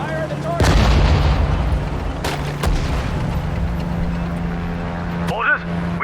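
Gunfire and booming artillery rumble through a World War II strategy battle in Sudden Strike 4, with loud sharp reports over a steady engine drone and brief voiced unit orders.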